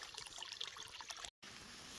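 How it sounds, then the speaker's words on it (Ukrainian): Water from a mountain spring trickling steadily outdoors, a continuous close hiss and gurgle that cuts out for a moment before resuming. "Джерело гірське."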